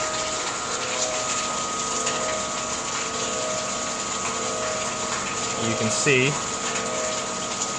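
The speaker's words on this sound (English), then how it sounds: "that we're pumping water." A 7-barrel Stout Kettles brewhouse pump hums steadily while pumping water during a test run, with a constant mechanical drone and water flow underneath a voice.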